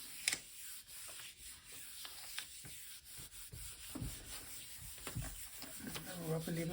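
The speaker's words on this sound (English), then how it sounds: "I'll rub a little harder to get the underlying layer up." A hand rubbing and scraping over a layered paper collage to lift the underlying layer, soft repeated dry strokes at close range, quiet, with a few louder scuffs near the end.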